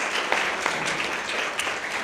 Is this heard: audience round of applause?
yes